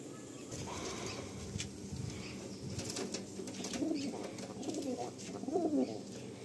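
Several pigeons kept at a bloodline breeding loft coo softly and repeatedly, with wings flapping in short bursts. The sounds are fairly faint and close, with quiet room ambience around them.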